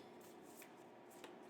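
A deck of playing cards being shuffled by hand, giving a soft, faint riffling and rustling with a few crisp flicks, close by and quiet with no one speaking.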